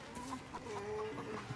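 A chicken clucks in the Baldur's Gate 3 video game, giving a quick run of soft, repeated clucks at moderate distance over quiet game ambience, with no voices.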